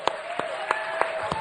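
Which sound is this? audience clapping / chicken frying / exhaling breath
audience clapping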